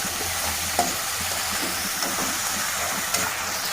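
Beans with turmeric and salt cook in a curry pan while being stirred, a soft continuous sizzle with a few light scraping clacks of the spoon at intervals, no voices.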